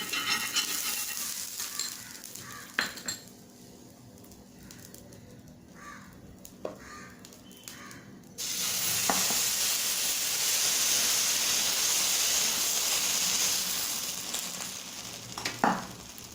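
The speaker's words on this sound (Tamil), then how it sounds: "நான் லைட்டாக ஆயில் அப்ளை பண்ணிக்கிறேன்" Oil sizzling on a hot dosa griddle over a medium flame, starting after a few faint clicks and settling into a steady bright hiss that holds for several seconds, ending with a couple of sharper pops.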